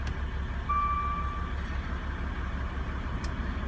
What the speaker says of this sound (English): Pop the car into reverse. See, it's got the reversing camera.